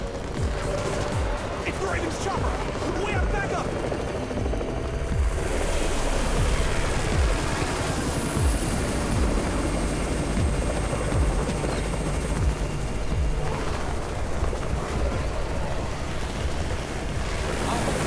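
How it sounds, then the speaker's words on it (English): A rescue helicopter arrives in the zombie survival game Undawn, its rotor thudding loudly and steadily over a wash of roaring noise that swells midway and holds for the whole stretch. "It's the Raven's chopper!"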